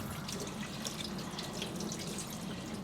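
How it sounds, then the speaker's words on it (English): A sink faucet runs steadily while hands are rinsed under it, giving a soft, even hiss of splashing water. It is quiet and close, with no speech. "So now I'm going to rinse off my hands."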